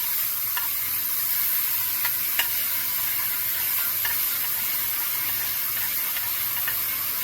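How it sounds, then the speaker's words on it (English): Diced tomato cooks down in a pan with a steady, even sizzle and frying hiss, close and continuous, occasional faint ticks, no voices. "We're just going to cook this tomato down just a little bit."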